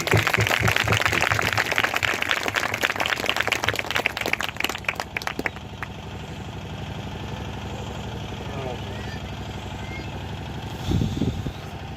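A church congregation at a Punjab ministry meeting claps loudly together, dense rapid applause for about five seconds that then stops abruptly, leaving a low murmuring room hum with a brief burst near the end.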